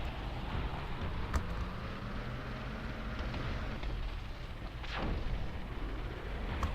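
Cannon fire in the Defense Task Force defense strategy video game: several booming shots burst out over a continuous low rumble, with one heavier blast near the end, no voices.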